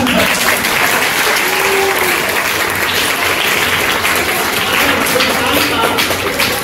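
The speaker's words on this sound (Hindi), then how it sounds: "इंडिया जरा तालियां बजाओ" A school audience claps together at a National Science Day program, a steady dense wash of applause filling the whole stretch at an even loudness with no clear talk over it.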